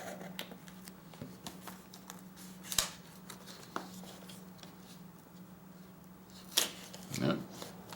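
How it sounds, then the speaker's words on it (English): Scissors snip through packaging during an unboxing of knives: sparse, sharp cuts and rustles, close and fairly quiet, scattered over several seconds with a faint steady hum underneath. "I'm just cutting everything up now."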